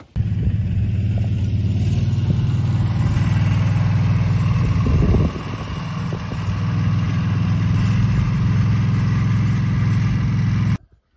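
A Gator utility vehicle's engine runs steadily as it drives, giving a loud, continuous low rumble with a brief dip in level midway and no voices over it.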